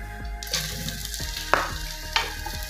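Onions dropped into hot oil, sizzling close by with a few sharp metallic clinks and knocks of a utensil against the pan, no voices.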